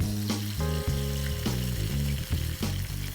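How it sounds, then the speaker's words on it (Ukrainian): Baked olives with feta just out of the oven sizzle loudly and steadily, a close, dense crackle of hot fat and juices with no voices over it. "Вони красиво шкварчать, підрум'янились."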